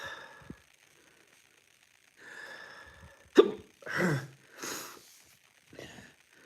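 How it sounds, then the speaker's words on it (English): Hiccups burst out in short, sharp, irregular spasms, a few close jolts separated by quiet pauses, along with breathy sighing sounds. "Got the hiccups."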